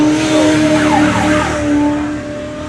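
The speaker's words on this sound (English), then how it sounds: "you see Brett, he's going through the tabletops." Off-road race car at the 2022 High Desert 100 desert race runs over tabletop jumps, its engine a loud, close, sustained droning whine with rising and falling pitch sweeps as it passes, no talking.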